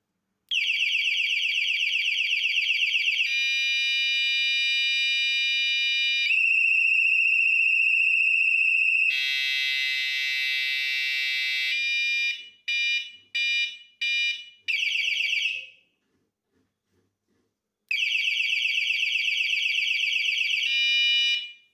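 A loud 140 dB Lista electronic cycle horn blares in sustained tones, switching between steady pitches, a warbling siren and rapid short beeps, with a brief silence before resuming.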